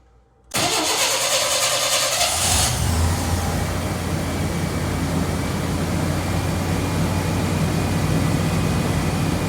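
A Chevy 4.3 V6 in an older manual 2WD truck cranks briefly and fires, then settles into a loud, steady idle close by, with no talking.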